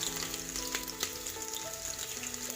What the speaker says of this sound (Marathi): आता त्याच्यामध्ये मी कांदा घालते।